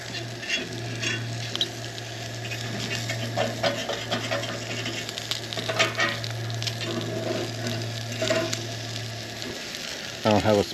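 Eggs fry in a pan on a Coleman camp stove outdoors at breakfast, with a constant crackling sizzle over a low steady hum, then a quick metallic clatter at the end.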